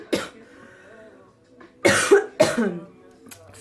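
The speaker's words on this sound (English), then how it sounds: "gonna cough my brains out." A woman doing a makeup tutorial coughs: one short cough, then a pause, then two harsh, close coughs in quick succession, alone without talk.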